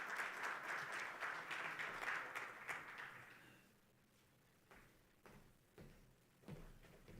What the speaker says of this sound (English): That applause certainly wasn't powered by green hydrogen